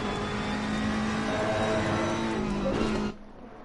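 A GT3 race car in a sim racing game at Paul Ricard drones at high revs, a steady, loud engine tone with a brief pitch shift near the end. It then cuts off abruptly, leaving a quieter background.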